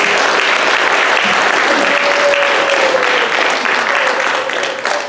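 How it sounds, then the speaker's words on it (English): A crowd at a Grasso Tech National Honor Society induction ceremony claps loudly and continuously, with a dense, steady applause that tapers slightly near the end. "Please give them another round of applause."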